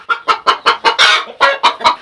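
A hen clucks in a quick, steady series of about ten loud, close clucks, with no talking.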